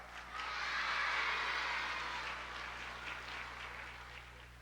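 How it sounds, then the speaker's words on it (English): Schoolchildren applaud Ronald McDonald at a school safety show, a warm burst of clapping that swells quickly, then thins gradually over a few seconds, heard from a slight distance with a faint steady hum underneath. "Let's give a real big Randall School hand of applause to the one and only Ronald McDonald."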